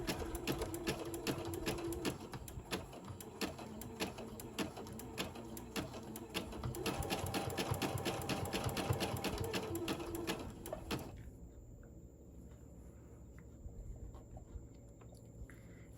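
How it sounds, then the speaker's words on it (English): A sewing machine zigzag-stitches rickrack trim onto a fabric hot pad, a fast, close, rhythmic mechanical chatter that runs steadily for most of the stretch before stopping, leaving quiet room noise. "I'm hoping that the zigzag stitch does me good."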